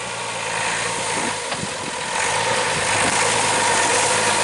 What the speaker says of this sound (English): just shut the engine off